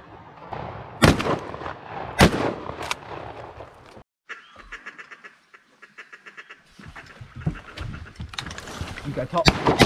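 Shotguns fire during duck shooting in New Zealand, with several loud, sharp blasts close by, then quacking ducks and more shots.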